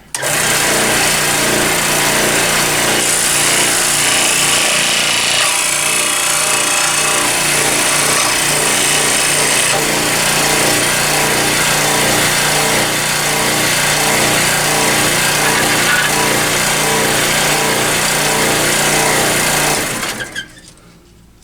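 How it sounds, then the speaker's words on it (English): A power sander smooths a cut on a small RC throttle part for a control-line model airplane, running as a loud, steady whirring grind for about twenty seconds before shutting off. "I can use the sander to finish the cut. or smooth it out, whatever."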